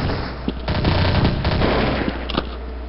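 Sustained MP5 submachine gun fire in Counter-Strike: Source, rapid automatic bursts of sharp loud shots packed tightly together across the whole stretch.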